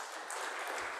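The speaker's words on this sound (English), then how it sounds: "How about a round of applause for our children?" Congregation applauding the children during a Sunday church service, a brief, dense wash of clapping from many hands heard at moderate distance with no talk over it.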